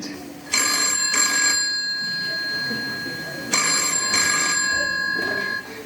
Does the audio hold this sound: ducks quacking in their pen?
no